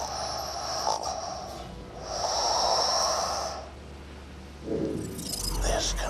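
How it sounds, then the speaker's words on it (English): Slow, rasping snoring from a recorded echo log in the Borderlands 2 video game, two long drawn breaths with a whistling edge and a snort at the end, over a low hum. "a clip of Scarlett snoring"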